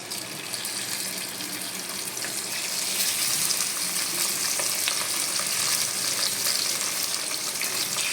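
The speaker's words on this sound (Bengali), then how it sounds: "তো দেখো তেলটা গরম হয়ে গেছে এবার আমি মাছগুলো এর মধ্যে দিয়ে দেবো" Pabda fish frying in hot oil: a loud, steady sizzle and crackle close up that swells and grows stronger partway through, continuing without pause.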